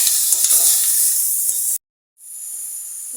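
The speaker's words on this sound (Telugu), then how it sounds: "టూ మినిట్స్ ఫ్రై చేసుకుందాం." Food sizzles steadily in a pan while cooking vellulli menthi kura, a bright close hiss that cuts out suddenly, then resumes more softly after a short gap.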